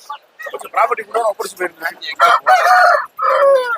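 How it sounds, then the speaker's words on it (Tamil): A long-necked rooster crows loudly nearby at a village market in Kunnathur, its drawn-out calls mixing with people talking in a busy outdoor setting. "நல்ல நெட்டு நீளமான சேவல்."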